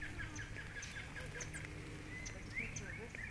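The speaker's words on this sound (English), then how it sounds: "Birds flying around in here." Birds flying around inside a zoo enclosure in Florida chirp and call repeatedly in short high notes over a steady low background hum, fairly faint and without clear talk.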